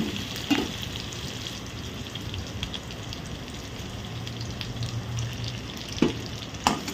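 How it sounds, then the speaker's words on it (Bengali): Paneer pieces fry lightly in a pan with a steady, soft sizzle and a low hum underneath, broken by a few sharp clicks and taps of a utensil near the start and toward the end. "পনিরগুলোকে হালকা করে ভেজে নিয়ে ওই জলের মধ্যে ভিজিয়ে রাখবো"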